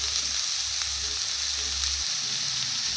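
Chopped onions, green chillies and curry leaves frying in a pan for Kerala-style egg roast, making a dense, continuous close sizzle with a low rumble underneath and no voices.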